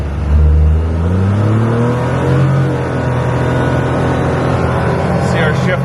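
A Polaris Ranger 1500 side-by-side with an economy engine tune revs and accelerates, its loud engine note climbing steadily in pitch through several rising sweeps, heard close up.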